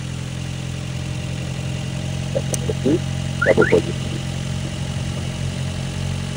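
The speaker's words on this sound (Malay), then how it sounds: "enjin dah hidup jadi menyala berterusan" A car engine idles with a steady low hum throughout, running after a jump-start from an impact wrench battery, while someone says a few brief words partway through.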